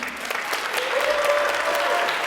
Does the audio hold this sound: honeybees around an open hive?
no